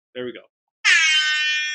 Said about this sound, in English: Air horn. There we go.